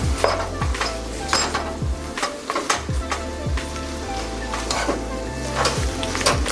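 Pasta being stirred into cooked-down kale in a hot pan, close scraping and clinking of a utensil against the pan over a soft sizzle, with a steady low hum underneath.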